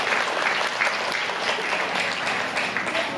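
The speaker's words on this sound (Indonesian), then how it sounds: "Tepuk tangan buat Talisa." An audience at a literary seminar and poetry anthology launch applauds for Talisa after her poem, dense steady clapping filling the short stretch, with no voices.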